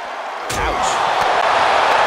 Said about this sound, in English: Sidewalk slam delivered.